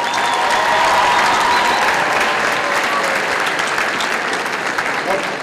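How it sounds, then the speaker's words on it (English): Loud, sustained applause from a crowd at a high school awards presentation, with dense, even clapping close by throughout and some faint crowd voices mixed in. "So let's give them a round of applause."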